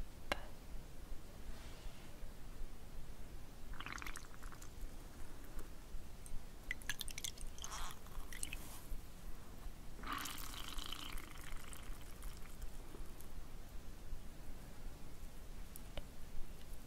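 A sheet face mask is swished and dampened in a bowl of water, giving gentle close-up splashes and drips with a few brighter sloshing bursts over a quiet background, no talking.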